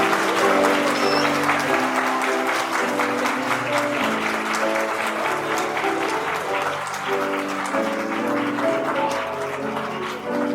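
Wedding guests applauding as the groom enters a church ceremony in Anyang, a dense sustained clapping from a crowd with music playing underneath.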